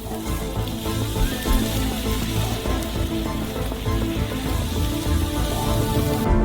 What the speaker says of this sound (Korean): 자, 연기 맛을 위해 수프에 불타는 통나무를 담가주세요.